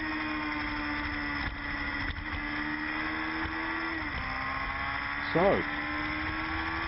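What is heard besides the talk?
Amateur GTO race cars racing on track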